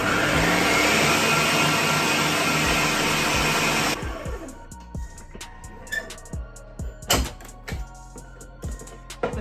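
Electric mixer whisking meringue with sugar added a spoon at a time for a pavlova, a loud steady whirring hum for about four seconds, then cutting off to a few clinks and taps of the bowl and beaters.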